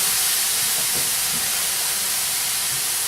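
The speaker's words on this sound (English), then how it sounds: "I'm going to turn this down now that we've got it sizzling away" Vegetarian keto bibimbap ingredients sizzle in a hot pan, giving a steady, even hiss that holds at one level throughout with no voices.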